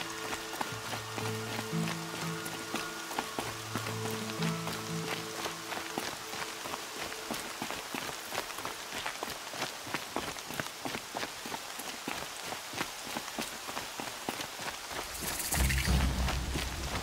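Steady rain falls in the Horizon Zero Dawn game world, a dense even hiss with scattered patter and soft footfall-like taps. Low music tones sit underneath, and a brief swell arrives near the end.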